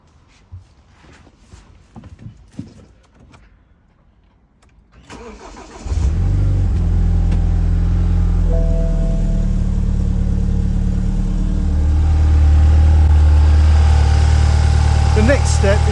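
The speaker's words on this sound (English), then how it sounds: "The next step is to start your car." A car engine starts with a crank and catches, then settles into a steady, loud idle that rises slightly later on. The air conditioning and fan are running, and quiet knocks and handling noises come first.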